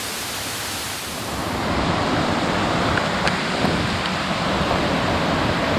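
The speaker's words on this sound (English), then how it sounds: "It started raining." Rain falls near a waterfall on a mountain hiking trail, a broad, dense hiss that swells after the first second and then stays steady and loud.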